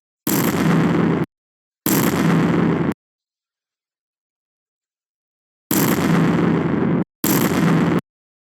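Explosion sound effects for a Scratch shooting game: four loud, dense bursts, about a second each, in two pairs separated by silence.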